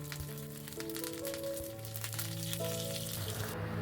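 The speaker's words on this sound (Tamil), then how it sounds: "ஒரு பேனில் 2 ஸ்பூன் எண்ணெய் சேர்த்துட்டு 1 ஸ்பூன் கடுகு சேர்த்துக்கோங்க. கடுகு நல்லா பொரிஞ்சதுக்கப்புறமா 2 சிகப்பு மிளகாய், கொஞ்சமாக கருவேப்பிலை" Mustard seeds, red chillies and curry leaves sizzling in hot oil in a pan, a soft steady crackle and hiss with light popping, heard under sustained background music.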